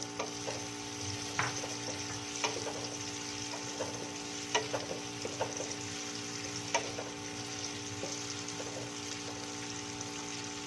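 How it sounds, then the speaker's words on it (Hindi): Onions sizzle in three tablespoons of hot ghee in a kadai for potato samosas, a steady close crackling fry with occasional sharp pops and light stirring scrapes throughout. "और जो प्याज हमने ली थी वो प्याज हम इसमें डाल रहे हैं। ऑयल हमारा गर्म हो चुका है।"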